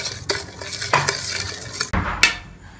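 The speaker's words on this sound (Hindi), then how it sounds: "हम चीनी को मिक्स कर देंगे, चीनी को घोल लेंगे।" A spoon stirs and clinks against a bowl as sugar is dissolved into lemon juice and mango milkshake, with repeated sharp scrapes and taps in a loose rhythm, close and fairly loud, no talking.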